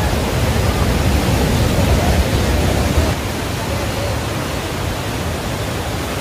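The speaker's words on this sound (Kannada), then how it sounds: "ಮಳೆ ಸ್ಟಾರ್ಟ್ ಆಯಿತು." Heavy rain pours steadily with a dense, even hiss, easing slightly in intensity partway through.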